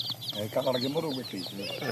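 Hens of the Khashi and Tiger breeds cluck in quick, repeated, close bursts, layered with faint background bird chatter and no talk.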